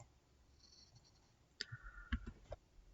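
A computer mouse clicks in Siemens NX CAD software: a quick pair of faint, sharp clicks close together, then a few softer taps in an otherwise quiet room, with no speech.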